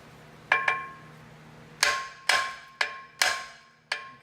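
Hammer blows ring out on a rusted suspension part of a Land Rover Discovery 2, six sharp metallic clangs, the first two close together, the rest spaced about half a second apart, loud and near with a steady low hum underneath.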